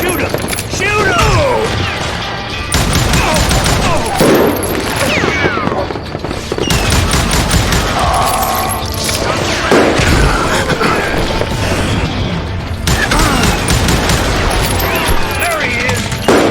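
Loud, rapid gunfire fills a shootout in the Western game Call of Juarez: Gunslinger, with repeated cracking shots and booms throughout while voices shout over the fighting.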